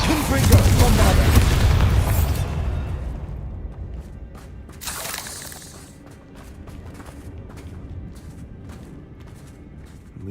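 Spell explosions in the Hogwarts Legacy game, a Confringo fireball and a Bombarda blast: a heavy booming detonation rolls out loudly at first, then a second sharp burst follows amid softer rumbling as a voice talks.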